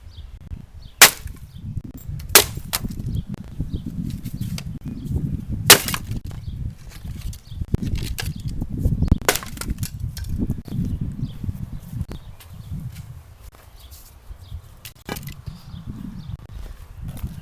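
Homemade pipe warhammer smashing wood, several sharp cracking impacts spaced a few seconds apart, with splintering thuds and rustling in between.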